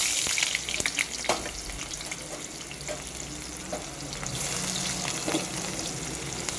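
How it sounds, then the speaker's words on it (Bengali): Chopped onions sizzle steadily in hot oil seasoned with mustard seeds and black cumin, a close, continuous frying hiss broken by occasional crackles and stirring clicks, with no one speaking. "এবার এর মধ্যে দিয়ে দেবো আমি কুচিয়ে রাখা পেঁয়াজ।"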